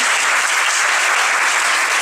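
Congregation at a young adults' church service applauds first-time visitors, a loud, uniform burst of clapping from many people that stays dense and even throughout.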